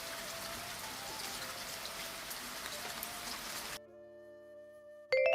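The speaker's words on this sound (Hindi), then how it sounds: "सुबह होते ही जबरदस्त बारिश शुरू हो गई।" Heavy rain falls steadily as a dense, continuous hiss for nearly four seconds, then cuts off abruptly and leaves a quieter tonal background before a sudden louder burst at the end.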